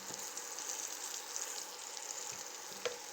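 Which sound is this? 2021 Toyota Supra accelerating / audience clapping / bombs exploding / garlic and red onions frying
garlic and red onions frying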